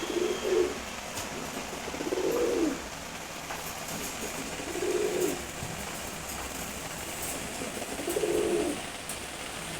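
Pigeons cooing in a pair, four separate low, throaty coos spaced a couple of seconds apart over a quiet background hiss, near and fairly soft.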